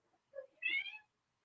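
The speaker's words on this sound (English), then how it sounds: "if you can hear that, that's my cat" A single cat meows once indoors, soft and fairly distant, a short two-part cry lasting under a second amid otherwise quiet surroundings.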